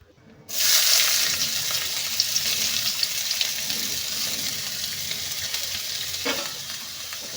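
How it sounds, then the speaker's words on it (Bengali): Two medium onions and five or six garlic cloves, chopped, drop into hot oil with a sudden loud hiss that settles into a steady frying sizzle, stirred now and then, close up. "এবার একটু নাড়িয়ে নেব। হালকা একটু ভেজে নেব।"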